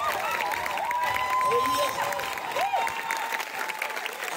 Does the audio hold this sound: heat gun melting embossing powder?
no